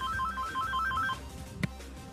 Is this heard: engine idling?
no